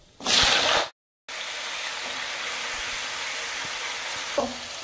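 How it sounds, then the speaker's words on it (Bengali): Small diced potatoes dropped into hot oil already holding bay leaf, dried chilli and whole cumin hiss with a sharp burst, then settle into a steady close sizzle with a brief stir near the end. "এবার ভালো করে লাল লাল করে ভেজে নেবো আলুটাকে।"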